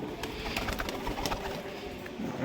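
Malbai pigeons, a high-flying breed, coo in soft throaty murmurs nearby amid a busy, faintly noisy backdrop, with brief clicks and flutters.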